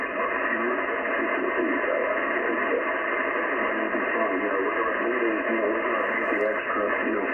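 Yaesu FTdx10 transceiver receiving an SSB voice signal with fast AGC, band-limited radio speech over a steady hiss of static, continuous and moderately loud.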